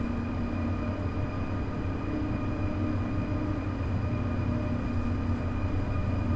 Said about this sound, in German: So langsam fahren wir den Kasseler Hauptbahnhof ein.